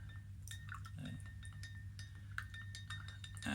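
A field ration Bloody Mary drink stirred in a cup, with light clinking taps of a utensil against the container, repeated irregularly over a few seconds at close range against a low steady hum.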